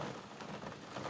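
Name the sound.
rain falling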